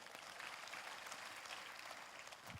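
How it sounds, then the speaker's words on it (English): An audience at a felicitation ceremony claps steadily, a faint, distant, even patter of applause throughout. "Round of applause for her."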